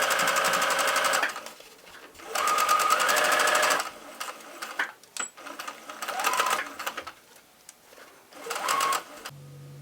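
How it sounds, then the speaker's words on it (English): Sewing machine top-stitching down a seam on a fabric face mask, running in three or four steady bursts of rapid needle chatter separated by pauses, close and clear with no talk. "just do a top stitch right down that seam just to kind of reinforce that and seal it up nicely"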